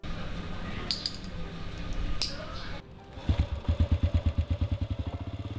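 A woman's motorcycle ridden around Butterworth on her way to the Penang ferry, its engine chugging in a steady, fast pulsing rhythm that starts partway through after quieter background noise and stays close and fairly loud.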